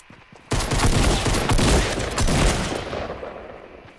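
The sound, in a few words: gunfire in the video game Fortnite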